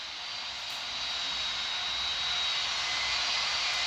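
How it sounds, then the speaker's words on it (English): Boeing 777 in Qatar Airways livery from the Infinite Flight simulator game, its jet engines producing a steady, loud broadband roar that swells slightly over a few seconds, with no talking. "So it's a 777 Qatar Airways."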